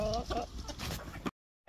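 Farm chickens cluck in a busy, close burst with a noisy background, during winter storm preparations, before the sound cuts out abruptly.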